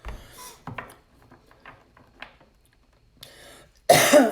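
Short coughs and throat clearing, one early burst and then scattered small sounds. A louder harsh burst comes near the end, set against a quiet room.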